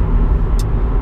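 A BMW M135i engine at full throttle on a winter road gives a loud, steady, low rumble that holds without a break, with no voices over it.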